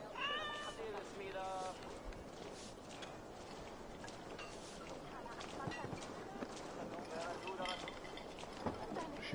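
A cat meows several times in Assassin's Creed Valhalla, faint short cries amid ambient game sound, with voices talking throughout.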